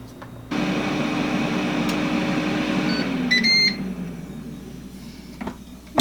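An air fryer runs with a steady fan whir and hum while red potatoes cook at 360 degrees, starting with a click, then a few short beeps before the hum drops off.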